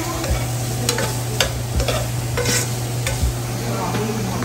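Garlic and onion fry in hot cooking oil for beef caldereta, a steady close sizzle with scattered stirring scrapes and spatula knocks throughout, no voices.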